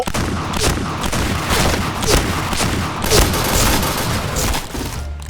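Dense, continuous gunfire in the shooting video game Point Blank, with rapid overlapping shots and booms crackling loudly throughout and no pauses.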